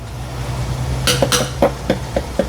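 A utensil clinks and scrapes against a metal cooking vessel as chicken is mixed with turmeric and spices, several irregular knocks after a low steady hum, fairly close and without talk.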